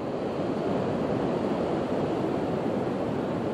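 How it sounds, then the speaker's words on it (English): Ocean waves washing in on rocks at Devil's Punchbowl in Newport, Oregon: a continuous broad roar of surf and churning water, fairly soft and steady, with wind noise and no distinct single crash. "look at this with the waves crashing in on these rocks a little bit."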